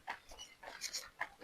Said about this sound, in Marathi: डॉगी आले डॉगी